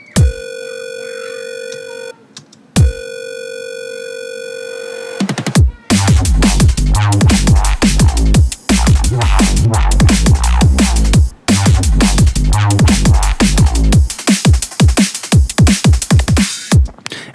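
An original neurofunk bass drop, preceded by a few seconds of sustained electronic tones and a short pause, then bursts into loud, dense, rapidly chopped bass stabs over hard drums for the rest of the stretch.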